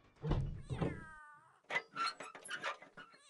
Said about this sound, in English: is that a cat? I I heard a cat.